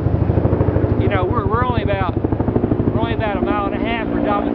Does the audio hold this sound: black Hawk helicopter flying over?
yes